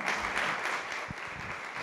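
Steady applause from a church congregation welcoming a guest pastor fills the whole stretch, a dense wash of clapping at even loudness with no voices standing out.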